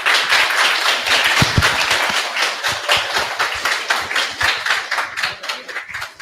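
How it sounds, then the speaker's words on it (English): Audience applause after a talk at a robotics and AI club meetup in Cracow, loud, close hand claps in a busy continuous patter that thins out toward the end. "so let's applause for Jacek."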